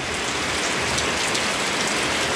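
Steady rain pours onto a metal sheet roof during a house renovation in Bicol, a dense, even, loud hiss of drops drumming continuously with no voices.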